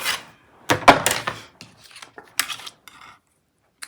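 Scissors hand-cut a paper sentiment for a stamped card in a few close, crisp snips and rustles of paper, then brief quiet gaps.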